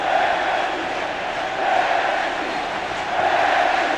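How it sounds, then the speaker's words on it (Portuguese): Football crowd at a 1999 Brazilian league match between Atlético-MG and Cruzeiro chanting the name Belletti, a dense, steady roar of many voices rising and falling in waves, loud and continuous throughout. "A torcida grita Belletti"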